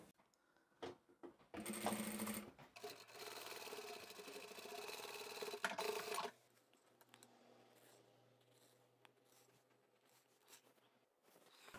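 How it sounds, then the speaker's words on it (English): A sewing machine runs steadily for about four seconds, stitching closed the opening of a fabric drawstring bag, with brief handling noises before and quiet fabric rustling after it stops. "we can take this back to the machine and sew this opening closed"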